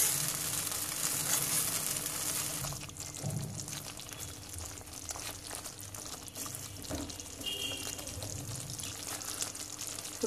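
Cauliflower pieces sizzle in a pan of spice paste while being stirred, a continuous frying hiss with occasional scraping and stirring noises, close and fairly quiet.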